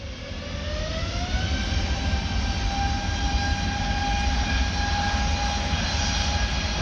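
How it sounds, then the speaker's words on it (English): Airbus A320 jet engines at full takeoff power at Orly airport in Paris, a loud continuous roar with a rising whine that settles into steady tones, constant and close throughout. "You can see the engine roaring, full power."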